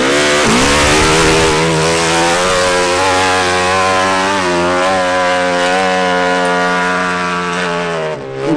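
A dirt bike engine revs and drones loudly and steadily on a hill climb at the 2019 Arette Hill Climb, with a harsh buzzing tone, pitch rising and falling slightly, close by and without speech.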